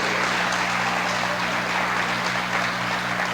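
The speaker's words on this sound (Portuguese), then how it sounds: "Você pode dar uma salva de palmas para Jesus" A church congregation claps together in a steady, dense wash of applause that holds at even loudness throughout, with no voices standing out.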